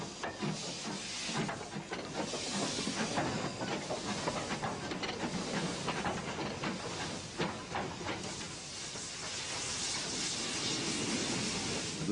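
A narrow gauge 2-8-4 steam tank locomotive on the Corgo line pulls in with an eastbound mixed train up the valley, a steady broadband rumble and hiss with faint rhythmic wheel clatter, continuous and fairly close throughout.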